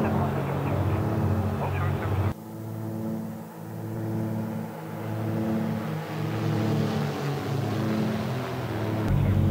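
A simulated twin-engine Beech Baron 58 from the Reality Expansion Pack in X-Plane 12 climbing after takeoff, with a loud, steady propeller-engine drone that briefly dips and then holds a constant, even hum.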